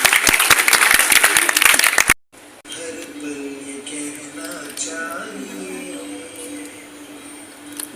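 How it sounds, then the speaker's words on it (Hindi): Loud clapping from an audience welcoming dancers at a Lucknow University performance, lasting about two seconds before cutting off abruptly, followed by a quieter murmur of the room. "जोरदार तालियों के साथ स्वागत करिए।"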